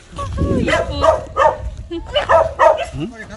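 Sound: small dog barking

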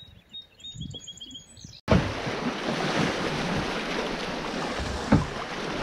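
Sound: wind-driven waves on the Connecticut River

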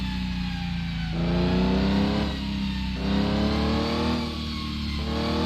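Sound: car engine revving in video game

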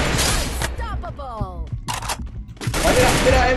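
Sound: gunfire in the video game Free Fire Max

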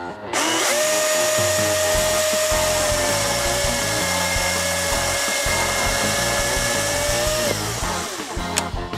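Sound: battery chainsaw cutting ash sticks

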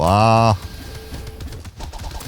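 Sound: green owl in the video game Nordic Ashes

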